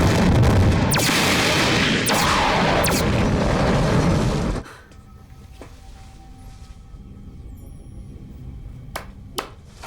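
Spaceship cannons fire in a sci-fi TV series: a loud, dense roaring barrage of blasts for several seconds that cuts off abruptly, then a quiet hum with a few sharp distant pings and booms.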